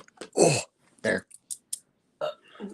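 A few short, loud close-up burps erupt in quick succession with brief pauses between them, with no talking around them.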